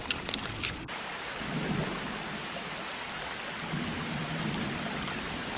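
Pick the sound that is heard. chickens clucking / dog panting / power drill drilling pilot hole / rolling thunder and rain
rolling thunder and rain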